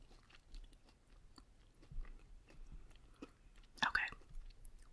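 Jelly beans are chewed softly and close up, with faint wet, sticky mouth sounds and a sharper crunch near the end, mixed with quiet whispering.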